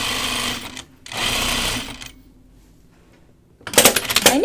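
A home sewing machine stitches the seams of pajama bottoms in two quick bursts separated by a brief pause, then falls quiet before a sharp clatter of handling noise near the end.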